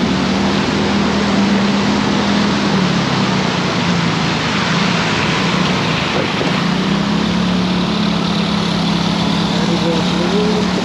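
A 2014 Yamaha Mio GT scooter engine runs loud and close with a steady buzzing drone that rises and falls as the throttle is opened, with someone speaking over it.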